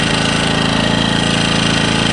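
Engel 2500W petrol generator running steadily up close, a loud continuous mechanical drone with a rapid regular engine pulse and no pauses.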